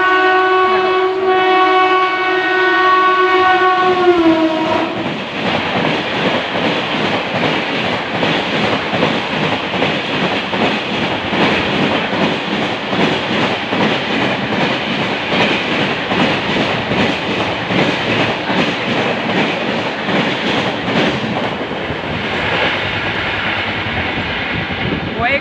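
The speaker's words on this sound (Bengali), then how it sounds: "কয়েক সেকেন্ডের মধ্যে বেরিয়ে গেল ট্রেনটা। 13115 শিয়ালদা হামসফর এক্সপ্রেস, যেটা জলপাইগুড়ি রোড স্টেশনে যাচ্ছে।" Sealdah–Jalpaiguri Road Humsafar Express speeding through Chakdaha station, opening with a loud sustained horn blast, then a long, close roar and rapid clatter of passing coaches that stays strong until the train clears.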